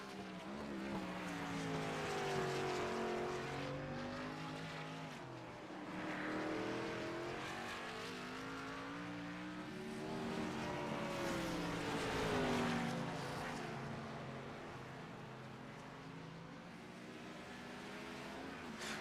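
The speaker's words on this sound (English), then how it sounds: "Ben currently out on track, getting a couple of extra seconds here of warm-up practice" Race cars circle Sonoma Raceway in a racing video game, engines droning and sweeping up and down in pitch through gear changes, a continuous loud whine of several cars with no talk.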